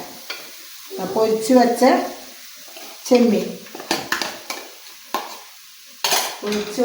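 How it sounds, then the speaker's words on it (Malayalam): Prawns are stirred into biryani in a pot, with repeated bursts of spoon scraping, wet sizzling and clinks against the metal, close up and with short pauses between strokes. "ചെമ്മീൻ ഇട്ട് നന്നായി ഒന്ന് ഇളക്കാം."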